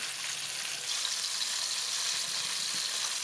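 Fish frying crispy in hot oil in a pan for a garlic-chili fish sauce dish, a steady close hiss and crackle of sizzling with small pops, continuous and even throughout.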